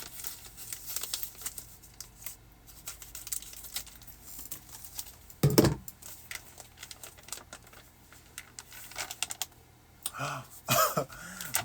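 Knife slitting open the side of a book-shaped mail package, heard up close as scratchy crinkling and tearing of packaging with a louder rip partway through.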